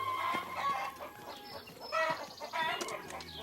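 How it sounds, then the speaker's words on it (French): Cartoon chickens cluck and squawk in quick, overlapping bursts while chasing a child, loud and busy throughout with a short pause in the middle. "Caillou n'aimait pas que les poules courent après lui."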